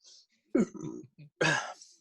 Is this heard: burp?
yes